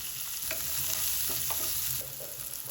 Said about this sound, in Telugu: వేసేటప్పుడు ఫ్లేమ్ కొంచెం పెంచుకుంటే ఆనియన్ త్వరగా మగ్గుతుంది